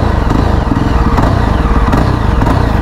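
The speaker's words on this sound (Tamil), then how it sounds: "பைக்கோட சவுண்ட் பாருங்கள் எப்படி இருக்குன்னு சொல்லிட்டு" A Yezdi Adventure motorcycle engine idles loudly and close by, its throaty rumble rising in occasional revs, with no talking.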